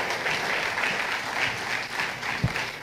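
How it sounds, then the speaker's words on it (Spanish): Church congregation at an anniversary service applauding, a steady, moderately loud patter of many hands clapping for about three seconds, with a brief low thump near the end. "regálale un aplauso a Cristo"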